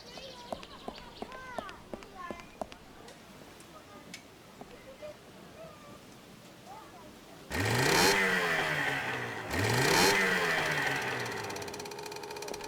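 A small motorboat engine in the adventure game Secret Files 2 starts and runs for two loud revving bursts, rising and falling whines close by, after a quieter stretch of game sounds.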